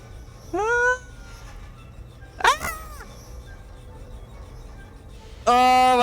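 Cat in the video game White Shadows giving three separate meows, loud and close, each a short rising-and-falling cry, spaced a couple of seconds apart over a low background hum.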